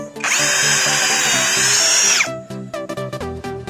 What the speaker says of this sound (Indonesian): tes performa dari bor APR AP12 Plus ini ya